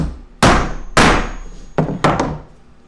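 A hammer strikes a piece of wood to punch a hole through it for a table-top trebuchet: four loud, hard thunks, two heavy blows, then two quicker hits, each ringing briefly.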